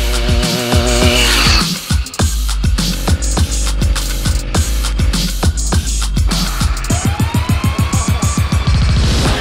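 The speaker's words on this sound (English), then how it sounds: "let's get the bike out. Let's take it for a spin." Small Chinese two-stroke engine fitted to a bicycle, ridden on a private road: a loud, raspy buzzing exhaust with rapid pulses that rise and fall as the throttle changes, close by and steady throughout.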